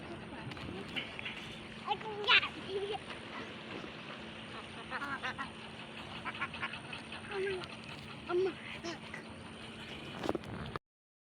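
Ducks quack in a few short bursts at a pond over a steady outdoor background with light chatter, moderately distant and not very loud.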